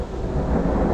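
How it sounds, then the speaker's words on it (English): A low, broad rumble of thunder, a dense roll filling the whole second at fairly loud volume, heard alone without speech. "It was thunder, I think."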